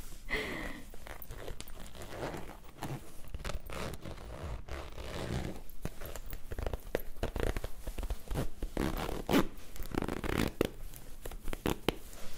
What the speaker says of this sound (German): Boah, hat einen Reißverschluss.